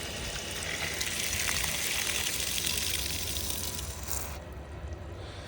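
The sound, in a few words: water flowing through a newly fixed water line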